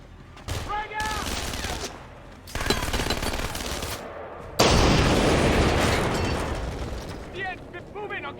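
In Splinter Cell: Conviction, a frag grenade goes off with a heavy booming blast among bursts of rapid gunfire, arriving as loud, dense volleys separated by brief gaps while voices shout over the combat.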